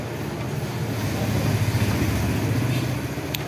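A bus climbs a steep uphill stretch of mountain road toward Naran, its engine a steady, loud, rumbling drone amid traffic, with some low voice-like murmur.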